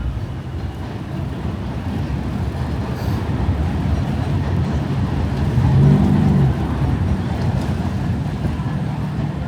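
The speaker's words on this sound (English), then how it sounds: "this is the Knickerbocker Avenue station M train on Myrtle Avenue" An M train runs at the Knickerbocker Avenue station on Myrtle Avenue in Bushwick, Brooklyn, giving a steady close rumble and rattle that swells slightly midway.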